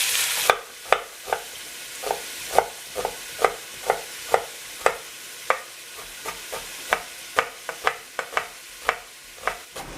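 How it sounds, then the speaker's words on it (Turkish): Minced meat for chili con carne sizzles in a pan while a utensil stirs and scrapes in a regular rhythm of sharp clicks, close and fairly loud. "Yavaş yavaş kıymam burada renk almaya, kavrulmaya başlayacak."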